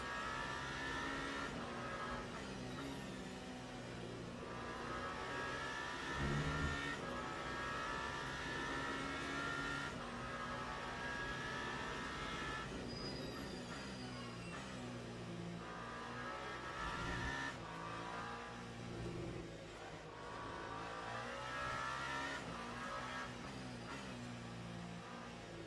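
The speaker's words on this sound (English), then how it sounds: "A lot of LMP2s" LMP2 race cars in a racing video game drone steadily for the whole stretch, their engines rising and falling as they rev and accelerate, with no talking over them.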